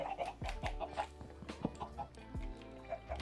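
Minecraft chickens cluck repeatedly in short, choppy bursts with a steady background hum, sounding like synthesized farm-animal effects.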